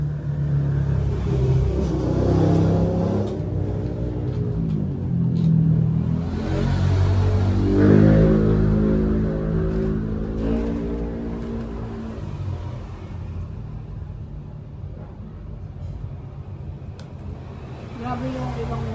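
Motorcycles with loud exhaust pipes revving near a small store, engine rumble rising and falling in swells over roughly twenty seconds, with people talking through it.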